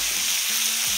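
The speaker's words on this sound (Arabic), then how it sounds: "احط الفراخ عشان تتشوح." Chicken sautéing in hot oil on a home stovetop, a steady loud sizzle filling the whole moment with no talk over it.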